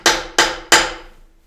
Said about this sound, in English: they have hammers and they hit their hammers and you can hear them tapping in the woods at night